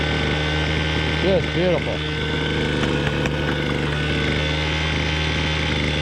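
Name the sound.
Zapp drywasher for gold running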